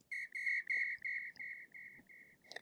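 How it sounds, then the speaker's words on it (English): A Brazilian whistle sample, a shrill, piercing tone blown in a series of sharp repeated bursts that gradually weaken, ending with a quick final chirp. "I just put in like a Brazilian whistle"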